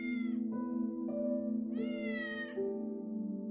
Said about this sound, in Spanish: El gato empezó a maullarle, hacía miau, miau.